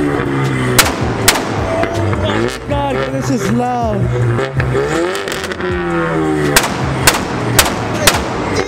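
A revving Ford Mustang engine fires off loud exhaust bangs that crack like gunshots in scattered bursts, with someone talking excitedly between them.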